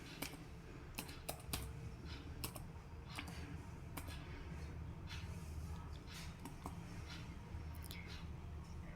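Keys clatter on a computer keyboard in quick, irregular bursts with sharper single presses mixed in, close and fairly quiet, with no talking.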